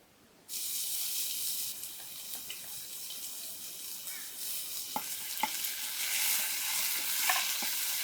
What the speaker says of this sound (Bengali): এই ফ্রাই পেনি আমি ডিমটা ভুনা করি ডিম ভুনা করার জন্য তৈল পেঁয়াজ রসুন বাটা